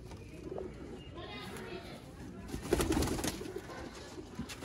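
A pigeon coos softly a few times, faint and close, over low background noise and murmuring voices.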